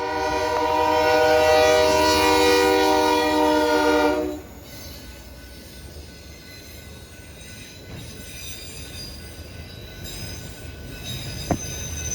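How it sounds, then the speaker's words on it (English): A CPKC intermodal train's diesel locomotive, a General Electric AC4400CWM, blares its horn for several seconds close by in downtown Minot, North Dakota, then cuts off to the steady rumble and rattle of freight cars rolling past. "a CPKC intermodal led by Canadian Pacific number 8204, a General Electric AC 4400 CWM"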